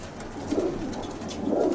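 Young pigeons about seven to eight months old coo softly and continuously, low murmuring calls overlapping at close range with no talking.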